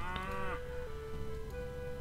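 Cattle on a farm in the strategy game Lords of the Realm let out a long, loud, drawn-out moo that holds a steady low tone, heard alone and up close.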